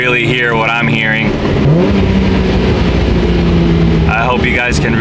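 A 1999 Nissan R34 GTR V-spec engine revs while driving through Los Angeles streets, heard from inside the car as a steady low drone that swells in pitch, with other sounds layered over it.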